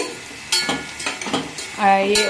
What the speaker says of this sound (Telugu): కొన్ని జీడిపప్పులు కూడా వేపుతున్నాను బంగాళదుంప కూరలోకి